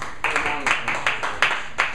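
Audience applause at a poetry open mic in Austin, heard as a series of short clapping bursts about every third of a second, moderately loud and close, over a murmur of crowd noise.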